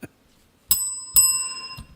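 Bicycle bell rung twice in quick succession, each ding bright and metallic with a long ringing decay, close and clear over a quiet background.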